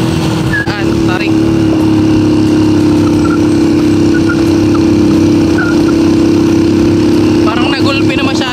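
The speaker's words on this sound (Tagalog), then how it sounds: "Parang nagulpi na masyado tong motor na ito." A motorcycle engine drones steadily and loudly while being ridden toward town along a partly unpaved road, a constant close hum with faint voices in the background.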